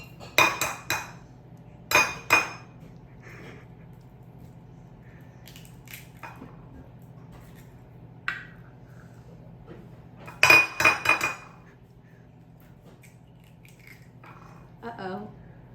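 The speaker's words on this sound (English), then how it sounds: "I'm gonna crack and scramble these eggs" Eggs being cracked and scrambled in a home kitchen: a few sharp clinking taps in short bursts, each a quick cluster of clicks, separated by quiet stretches over a low steady hum.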